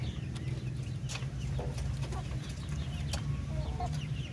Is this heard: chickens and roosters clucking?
yes